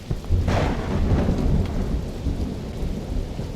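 A thunderstorm with steady rain in the horror video game Welcome to Hanwell, where a deep rumble of thunder swells early on and fades beneath continuous heavy rainfall.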